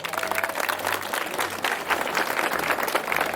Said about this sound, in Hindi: सौरभ जसल सर के लिए एक बार तालियां हो जाए भाई।